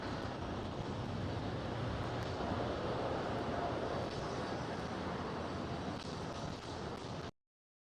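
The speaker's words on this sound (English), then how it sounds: "DHL is going to take off very soon from runway 18 left." A DHL cargo aircraft takes off from runway 18 Left at Schiphol Amsterdam, its jet engines giving a sustained, broad roar at a distance before the sound cuts off abruptly.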